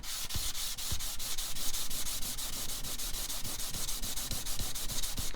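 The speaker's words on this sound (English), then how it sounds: "I'm just holding the scale down, rubbing it back and forth." A titanium knife scale being rubbed back and forth on 800 grit sandpaper, a steady rhythmic rasping with regular strokes at close range.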